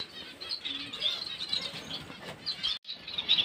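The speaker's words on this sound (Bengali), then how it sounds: "এগুলোকে বলে বেঙ্গলি ফিঞ্চ" Bengali finches fluttering and flapping inside a cage, with busy high chirps and soft wing patter running continuously at close range, broken by one brief gap.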